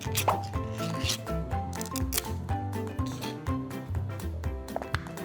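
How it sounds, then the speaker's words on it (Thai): Knife slicing canned luncheon meat ham into thin strips on a cutting board, a quick series of crisp repeated chopping taps in an irregular rhythm, close and clear with no voices. "เดี๋ยวเรามา หั่นแฮมกันก่อน"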